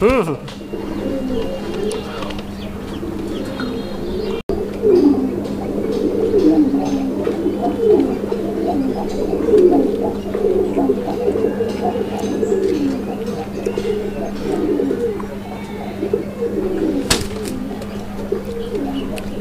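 Black Madrazi Golla pigeons coo continuously in a loft, a steady layer of low, rolling calls close by, with people talking over them and a constant hum underneath.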